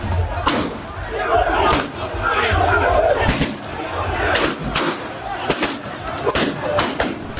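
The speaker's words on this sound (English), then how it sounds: "This video shows protest from the crowd. Then the shooting starts." Crowd protesting outside an election collation center in Techiman South, loud shouting and chatter with several sharp, sudden bangs from gunshots scattered through the noise.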